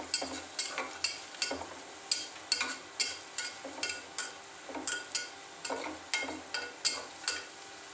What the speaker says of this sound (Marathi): त्याच्यामध्ये आता आपण हळद किचन किंग मसाला आणि थोडंसं मीठ आणि पुन्हा एकदा परत परतून घ्यायचं आहे